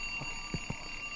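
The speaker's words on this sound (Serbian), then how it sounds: "silazi, gasi alarm" An alarm clock rings in a horror video game, a steady shrill electronic tone held throughout with a few soft low thumps underneath and no voices.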